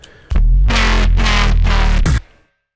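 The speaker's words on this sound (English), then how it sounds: "So got some overdrive on this sound, a bit of EQ, dipping out all of that 300 region." Loud synth with overdrive and EQ that scoops out the low mids, playing four sustained chords in a steady rhythm with sharp starts and stops, with no talk over it.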